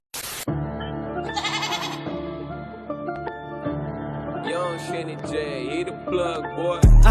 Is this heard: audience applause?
no